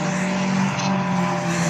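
A supercharged Mini Cooper S race car goes by at a circuit, a sustained loud engine drone with a steady high whine, heard up close and continuous.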